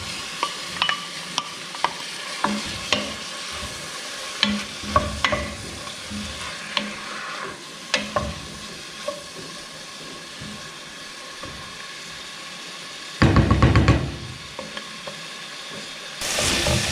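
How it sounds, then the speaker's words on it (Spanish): Onion and garlic frying in a pan for vegetarian textured-soy empanada filling, a soft steady sizzle broken by repeated scraping stirs, with a louder burst of stirring near the end. "Vamos a cocinar un ratito. Esta es la cebolla y el ajo."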